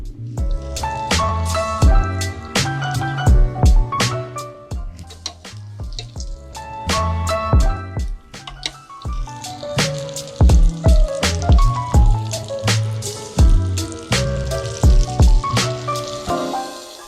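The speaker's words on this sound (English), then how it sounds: "pop it in, and if it sizzles and floats, then it's ready to go" Battered cauliflower pieces for vegan KFC-style bites fry in hot oil, with close, loud crackling, sharp pops and spattering bursts in irregular clusters throughout, no talk.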